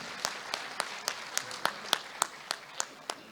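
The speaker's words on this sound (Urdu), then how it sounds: "زندہ باد، بھرپور تالیاں۔" Sparse applause from an award ceremony audience, about a dozen separate claps spaced fairly evenly, sharp and moderately near against a quiet room.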